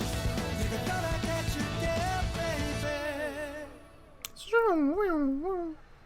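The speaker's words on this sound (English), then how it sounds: "Little echo to end it there." The end of a K-pop song, with full band music giving way to a sustained vocal note that carries an echo effect, its repeats trailing off as the track closes.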